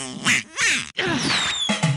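A cartoonish duck quack sound effect from the You Don't Know Jack trivia video game, loud and close, repeated in a few honking bursts over two seconds with no talk.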